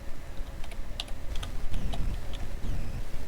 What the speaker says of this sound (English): you're going to insert your row and type education in there, all capitals.